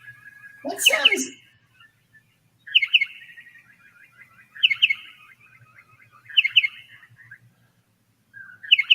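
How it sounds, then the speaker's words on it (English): A butcherbird calls in the background, repeated clear fluting phrases with chattering tails at roughly two-second intervals, fairly distant over a quiet low hum, with one louder nearby bird chirp at the start. "Hear the butcher bird in the background?"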